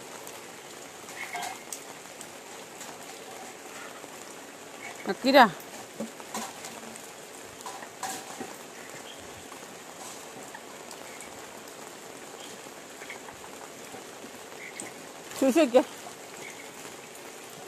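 Rain falls steadily outdoors, a soft continuous patter heard at a distance, with a person talking briefly over it and a couple of louder knocks and rustles standing out.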